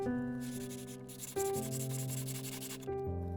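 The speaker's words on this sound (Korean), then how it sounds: "이렇게 사포 가장자리에 작업하려는 부분을 대주고 사포질해줬어요" Soft rubbing of a resin piece on sandpaper under a faint, steady musical tone, a continuous gritty scrape without talking.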